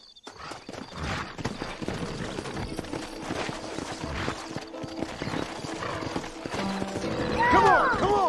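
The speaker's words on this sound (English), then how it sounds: "Horses are over here!" Horses in the video game Red Dead Redemption clip-clop steadily at a walking pace, and one gives a loud whinny close by near the end.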